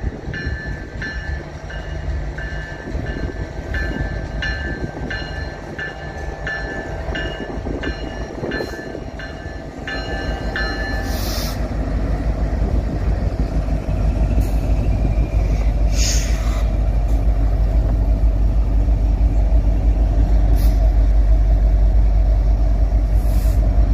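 A freight train led by a Canadian National EMD SD70M-2 locomotive passes close by, with a horn sounding early on before a loud, steadily building rumble and clatter of rail cars rolling past.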